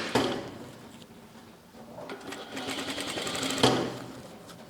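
A sewing machine stitches bias binding around a curved edge of a blouse, a close mechanical whirring in two short bursts with a brief pause between them.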